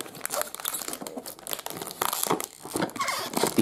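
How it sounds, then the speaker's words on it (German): A birthday gift unwrapped one-handed, with continuous close crinkling and crumpling of wrapping paper and occasional tearing. "Mit einer Hand auspacken ist jetzt nicht gerade so einfach."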